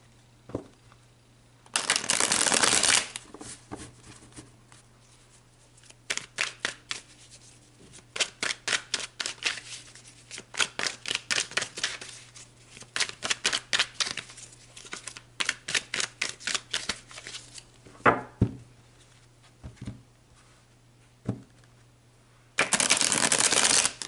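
Tarot cards being shuffled for a reading, close and fairly loud: bursts of rapid riffling clicks and soft bridging swishes, with a few pauses and brisk whooshes, and no talk.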